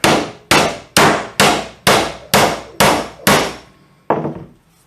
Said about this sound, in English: I'm going to choke up on this hammer, I'm going to get a couple taps on it and get it in there.